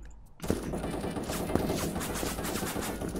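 Rapid SMG gunfire in the browser shooter game Krunker, starting abruptly after a brief quiet moment and continuing as a dense, loud burst of shots.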